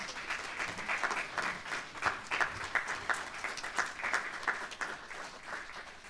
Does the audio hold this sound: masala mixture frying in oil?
no